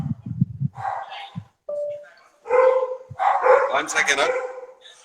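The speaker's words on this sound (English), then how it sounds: "Dogs are going mad." Several dogs bark and yip excitedly in loud, overlapping bursts, some close and some sharper and higher, with brief gaps and a person speaking among the barks.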